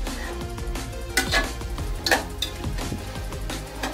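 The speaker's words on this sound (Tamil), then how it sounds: "இந்த அவரைக்காய் சாதம் செய்யும்போது நிறைய கிண்டிக்கிட்டே இருக்கணும்" A spoon stirring broad bean rice with lemon juice in a pan, scraping and clinking against the metal in an uneven rhythm, close by with a faint sizzle underneath and no talking.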